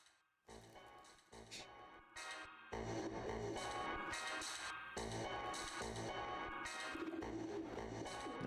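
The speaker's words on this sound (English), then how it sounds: "This carrier frequency pigeon possesses top secret information." A carrier pigeon coos in the video game Jazzpunk amid a dense, distorted electronic game soundtrack, the soft cooing blended into the steady, busy music bed.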